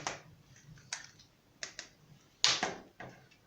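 Typing on an Everest GX6 RGB mechanical keyboard with a metal interior, a few sharp isolated key clicks and clacks spaced irregularly, close and fairly quiet with no talking.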